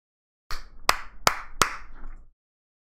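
Four sharp hand claps ring out in a quick, evenly spaced series, close and crisp, with a short decay after each and no speech.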